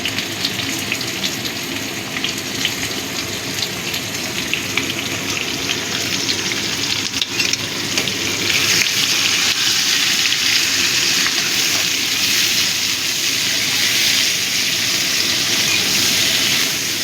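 Onion added to hot oil with fried potatoes in a pan for Bengali tangra fish curry, a loud steady hiss that swells and stays dense, close and continuous.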